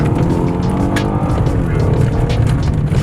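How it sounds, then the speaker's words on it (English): A retired police interceptor car's engine revs loudly while tires slide and scrub on a dirt road, a continuous drifting roar with no talking. "Oh my God, Archer's drifting the cop car."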